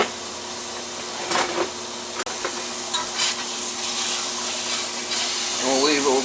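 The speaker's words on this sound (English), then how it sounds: "what I'm going to do is I'm going to pan fry the steak." Steak sizzles steadily in a frying pan, a loud continuous hiss with occasional scraping and stirring clicks, heard close up.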